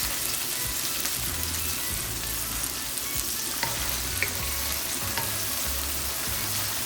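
Chopped onion sizzles in mustard oil with cumin seeds and bay leaves, a constant loud frying hiss with scraping stir strokes recurring every second or so and no voices.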